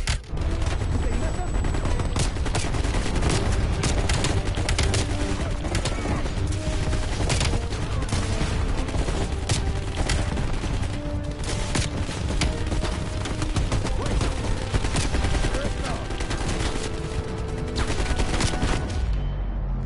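Rapid gunfire from a weapon in the video game Call of Duty: Cold War, loud dense bursts of shots and booms continuing almost nonstop, with a voice occasionally heard under the shooting.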